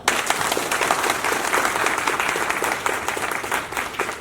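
An audience at a speech applauds, a sustained, fairly loud wash of many hands clapping together, steady and dense from start to finish with no clear talking.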